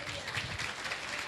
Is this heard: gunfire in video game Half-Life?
no